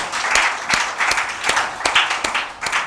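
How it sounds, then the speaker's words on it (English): An online audience claps in a few sparse, separate hand claps and short bursts of applause, heard fairly close. "I think that deserves a round of applause,"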